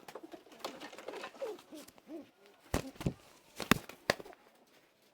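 Pigeons cooing softly in low, throaty murmurs, mixed with sharp clicks and flapping knocks nearby.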